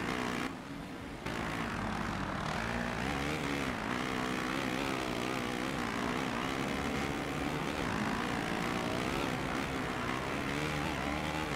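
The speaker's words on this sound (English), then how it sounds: "If anyone else can hear the bike cutting out" Motocross bike engine in the video game MXGP 2 during a MX2 race at Talavera de la Reina, a continuous high buzzing engine drone with wavering pitch that briefly drops out near the start, then runs steadily and loud.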